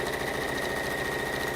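A sewing machine running steadily while stitching a quarter-inch seam, a loud, continuous fast mechanical whir with an even rapid rhythm and no voices.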